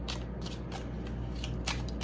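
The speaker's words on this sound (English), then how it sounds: "I'm gonna shuffle again." A deck of tarot cards is shuffled by hand during a card reading, a soft, steady papery riffling with light repeated flicks, close and quiet over low background hum.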